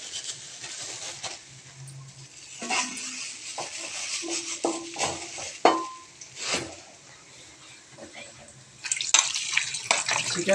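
Water from a kitchen tap splashes irregularly over raw chicken being washed in a home kitchen, a soft steady rush broken by louder splashes and faint clinks of the vessel.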